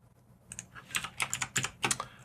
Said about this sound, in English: Alt, Shift, and A on your keyboard will add